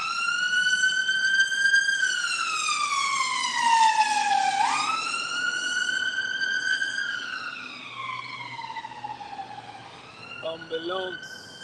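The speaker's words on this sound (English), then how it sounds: "Ambulance" An ambulance siren wails loudly and steadily nearby in slow rising and falling sweeps, with a faint low engine hum beneath and a brief change in pitch near the end.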